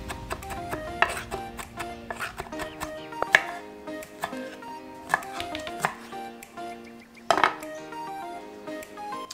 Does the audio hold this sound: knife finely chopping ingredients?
yes